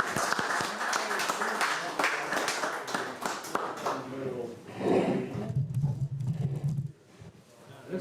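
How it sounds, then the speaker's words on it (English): A small group at a meeting claps briefly for a man who donated wood, a scattered burst of hand claps fading out as voices murmur nearby. "Applause to the man who donated all that wood."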